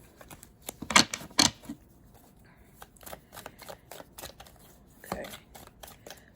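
A deck of cards is shuffled by hand, with sharp riffling bursts near the start and again later, separated by quieter soft shuffling and handling sounds, all close and fairly faint.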